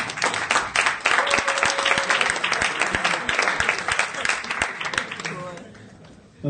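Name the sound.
audience applause at a meetup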